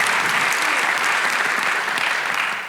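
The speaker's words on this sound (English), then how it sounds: "applaud the sponsor." An audience at a Toronto speaker event applauds a sponsor, dense steady clapping close and loud that begins to fade near the end.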